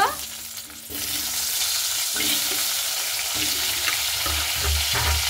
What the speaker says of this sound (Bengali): এবার আমি সেই আলুগুলোকে কিন্তু হালকা করে ভেজে নেব